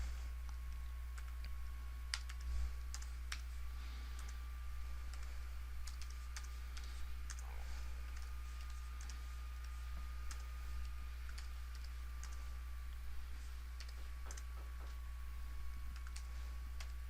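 Computer keyboard keys tapped in quick, irregular bursts while survey calibration points are entered into Trimble Business Center site calibration software; faint, close clicking over a low steady hum, with no talking.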